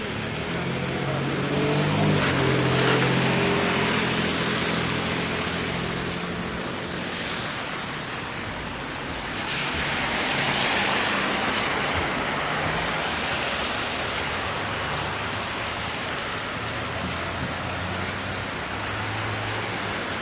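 Steady rain falls on a downtown Toronto street, a broad hiss with cars swishing past on wet pavement, swelling loud and close then easing, with no talk.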